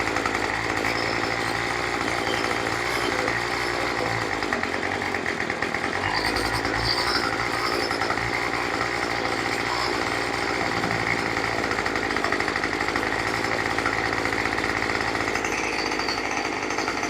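A small tiller engine that sat unused for two years runs steadily at close range, giving a constant buzzing drone with a slight waver in pitch. No one speaks over it.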